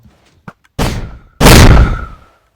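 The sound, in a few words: wind charge wither blaster firing in a video game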